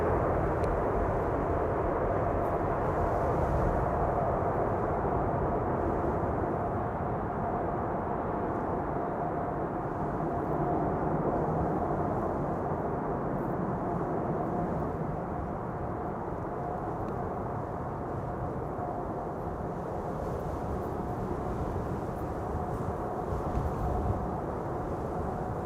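An airliner at Amsterdam Schiphol Airport roars in reverse thrust and then its engines spool down, a broad steady rumble that holds fairly evenly and fades only slightly toward the end.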